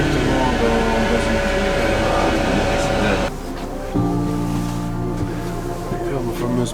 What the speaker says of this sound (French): j'ai la chasse d'eau, ça va directement dans